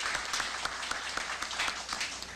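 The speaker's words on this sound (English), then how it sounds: "I would like to have all of us give him a round of applause here to greet him at this time" An audience greets the Governor of Ohio, Richard F. Celeste, with a short, even round of clapping from many hands, moderately quiet and unbroken.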